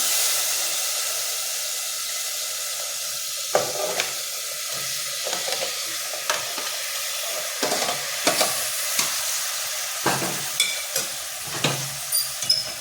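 Potatoes and prawns are stir-fried in a pan for a spicy prawn curry (kolambi rassa). A constant hissing sizzle runs throughout, broken by repeated scraping and clacking stirring strokes toward the end, with no voices.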